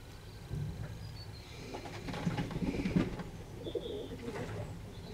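A week-old half racing pigeon gives soft, low cooing calls close by, a rolling murmur that swells in the middle and continues with light rustling in the background.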